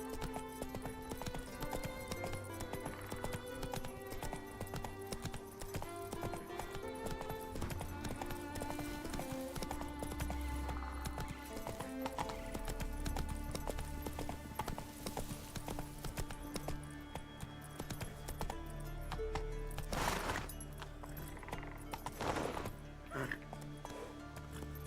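Roach, Geralt's horse in The Witcher 3, gallops with steady clip-clop hoofbeats throughout, set against game music and ambience, with a short whinny near the end and a voice speaking over it.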